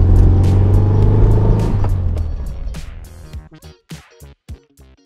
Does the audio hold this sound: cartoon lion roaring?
no